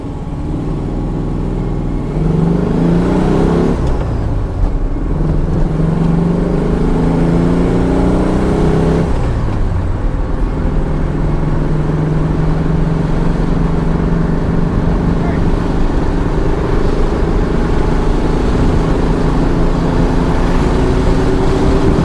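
A 1968 VW Type 3 drives at quarter throttle, its engine droning steadily with pitch shifts as it pulls, a close cabin hum under occasional speech.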